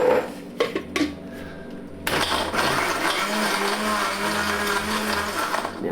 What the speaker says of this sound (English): Put some of that old paint into the blender, an old blender